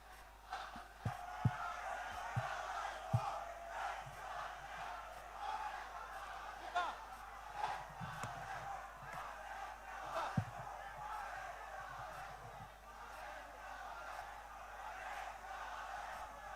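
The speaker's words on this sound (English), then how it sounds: "Yes, yes, keep on shouting." A festival crowd at the Shirui Lily Festival rock concert in Ukhrul District shouts and cheers in a broad, distant roar, with scattered whoops and a voice speaking over it.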